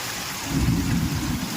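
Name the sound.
heavy rain with thunder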